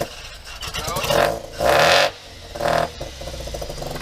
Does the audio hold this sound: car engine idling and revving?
yes